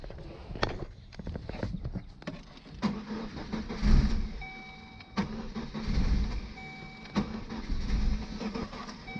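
Chevy Cavalier project car engine cranking over and over without catching, a series of uneven starter bursts with mechanical clatter and brief pauses, loud and close.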